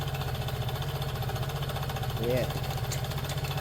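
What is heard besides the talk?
Piaggio Liberty scooter engine running after repair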